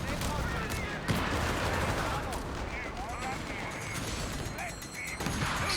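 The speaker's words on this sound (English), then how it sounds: "the double grenade launchers, they are slapping these US troops around" Rapid bursts of explosive fire from double grenade launchers in a war strategy video game, dense and continuous battle noise with repeated blasts over several seconds, a voice talking over the gunfire.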